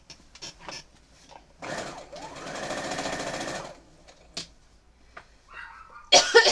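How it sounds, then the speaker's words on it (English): Sewing machine stitching the border fabric of a glow-in-the-dark Ghostbusters quilt, one steady mechanical run of about two seconds, with soft handling clicks before and after. "So let's sew this."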